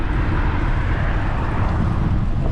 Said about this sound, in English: That was like a small plane landing.